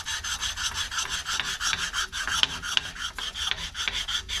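Hand sanding a body part on a 1968 Mercury Colony Park, a steady rhythmic rasping scrape of repeated strokes, close and fairly loud, with no talk.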